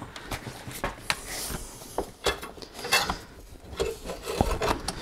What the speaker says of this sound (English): I need to cut some of that bolt